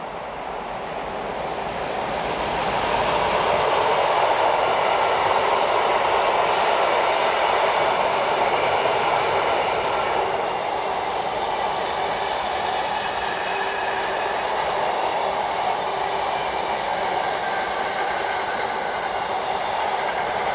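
Electric locomotive 186335 hauls a long freight train past at steady speed, a broad rumbling roar with faint rhythmic wheel clatter that swells in and holds for about twenty seconds.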